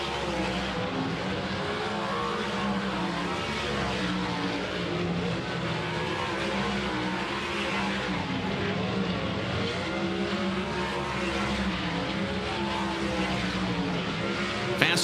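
Sprint cars of the High Limit Racing national touring series roar around the Gondik Law Speedway under green, a dense, steady wall of engine drone with layered harmonics that holds loud and unbroken throughout, no voices on top.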